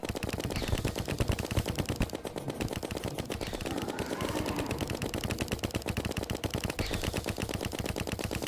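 Rapid continuous gunfire from a weapon in Terraria, dense machine-gun-like bursts of shots repeating steadily throughout at a loud, even level with no talking.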